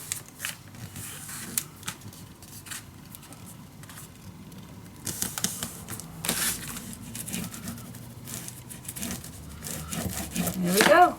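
Paper for a handmade dog-themed mini album, made without binding, is creased, flipped, peeled and burnished flat: close, soft scraping and rubbing strokes with light taps, steady throughout with brief louder moments.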